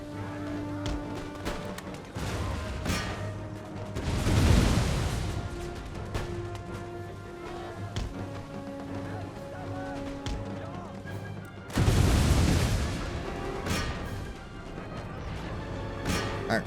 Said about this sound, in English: Our grenades.